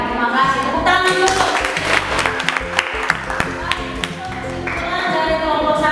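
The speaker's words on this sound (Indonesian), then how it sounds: "Tepuk tangan dulu." A class claps together in a school lesson, rapid overlapping hand claps running through the whole stretch, mixed with voices talking and some tonal background sound.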